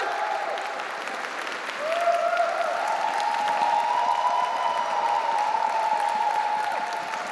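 A show audience claps in sustained, dense applause that swells after a couple of seconds, with a held cheer or whoop riding over the steady clapping.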